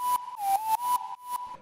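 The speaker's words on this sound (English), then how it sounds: "The second layer is more of like a whistly kind of sound" A whistly synth lead layer from a future bass track plays a few gliding staccato notes in a quick rhythmic pattern, bright and clean with nothing else heard.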